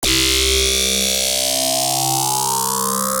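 Wavetable synth sweep run through a phaser, a loud sustained buzzy tone whose harmonics glide steadily upward with swirling phased movement, heard alone for a few seconds.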